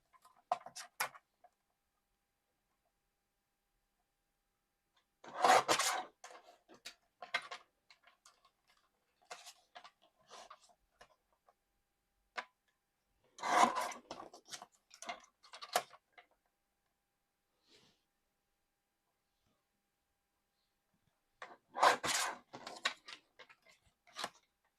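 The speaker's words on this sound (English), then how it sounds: "let's just trim this down. Use the trimmer." A paper trimmer slices card for a craft project in three separate bursts of short, crisp cutting and clicking, quiet and close, with silence between the passes.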